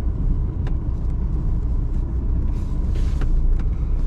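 A car stuck in the middle of a road, its engine straining to move off, a loud steady low rumble with a few faint higher clanks and a hiss partway through.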